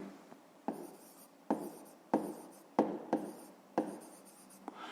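Handwriting with a pen on paper during a fifth-grade maths exercise: a series of six short scratchy strokes in an uneven rhythm, close and quiet, with no talking.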